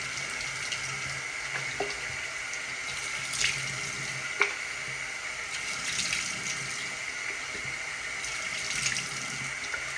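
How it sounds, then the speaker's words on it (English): A sink tap runs steadily while a face is washed during a nighttime skin care routine, a soft continuous hiss of water with a few faint splashes and knocks, no speech. "So I'm washing that off right now, off my face."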